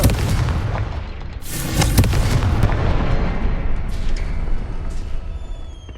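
A Confringo fire spell bursts in Hogwarts Legacy, a loud booming explosion with crackling, rumbling debris that rolls on for several seconds before thinning out, followed by a few sharper pops and bright magical tones.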